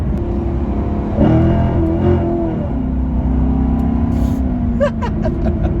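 C7 Corvette sports car accelerating hard, a loud steady engine roar that climbs in pitch as it pulls away, close and continuous with no talk.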